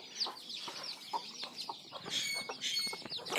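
Desi hens give low clucks while chicks peep in quick, high bursts all around, close and continuous, with occasional thumps and rustling.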